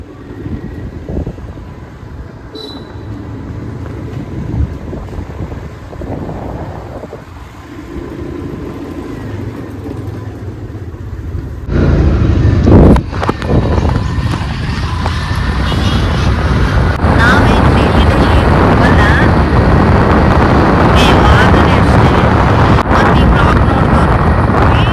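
Riding a scooter early in the morning brings heavy wind buffeting across the microphone, a muffled rumble that jumps to a louder, steady roar about halfway through and stays there.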